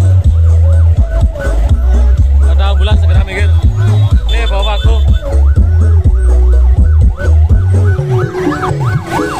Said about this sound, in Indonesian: Waduh, ada ambulan.